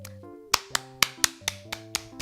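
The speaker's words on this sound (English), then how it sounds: "Whoa, claps." Eight crisp hand claps at an even, steady pace ring out over sustained musical tones, each one a sharp, close snap.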